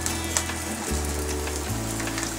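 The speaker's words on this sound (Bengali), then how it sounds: "দেওয়ার পর পেঁয়াজটাকে আমি একটু ভেজে নেব।" Three chopped onions frying in half a cup of ghee for Bangladeshi shahi polao, a soft continuous sizzle over a low steady hum in a brief moment.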